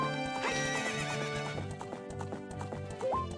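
A horse in Zelda: Ocarina of Time gallops with rapid clip-clop hoofbeats and gives a neigh, set against game music, clear and continuous.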